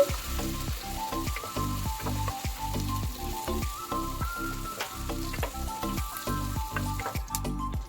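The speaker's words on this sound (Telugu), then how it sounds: "అల్లం వెల్లుల్లి పేస్ట్ అనేది పచ్చి వాసన పోయేంత వరకు వేయించుకోవాలి" Ginger garlic paste frying in a pan for a mango fish curry, a loud close sizzle broken by rhythmic stirring scrapes in regular pulses, with no talk.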